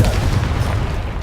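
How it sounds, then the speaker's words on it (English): A Confringo spell blast in Hogwarts Legacy: one short, heavy, close boom with a rumbling low end that fades over about a second. "Confringo!"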